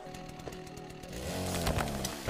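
A chainsaw is pulled out and revs up to cut a tree in the survival video game Rust, its buzzing engine starting faint and then running loud and steady for over a second.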